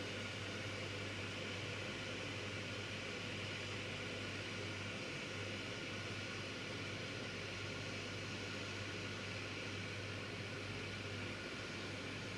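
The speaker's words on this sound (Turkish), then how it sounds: "Çünkü o kaynama sesi biraz azaldı." A steady, hissing roar of water boiling in a Karaca Hatır coffee machine continues throughout, low and even with no other sounds.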